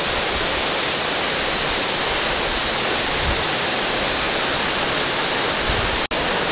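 Waterfall in Pagudpud, Ilocos Norte, roaring as a steady, loud, broadband rush of falling water that fills the whole stretch with no voices, cutting off abruptly just before the end.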